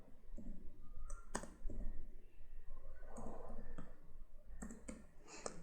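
Keys click on a computer keyboard in irregular bursts and single taps, close and quiet, with no talking.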